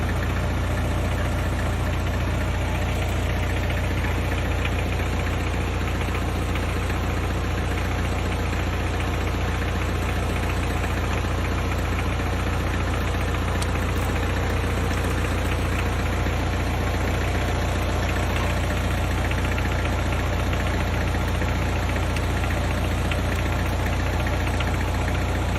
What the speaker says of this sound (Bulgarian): Ще завъртим без гориво да им се превъртим мотора.